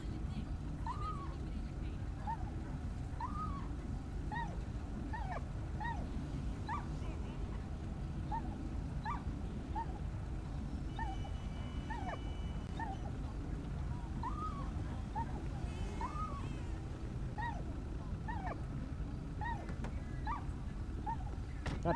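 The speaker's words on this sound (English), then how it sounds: "Yo, that's a loud ass dog." A police K-9 dog barks loudly and repeatedly inside a patrol car with its windows cracked, sharp yips and whines in a steady rhythm, while people talk over it.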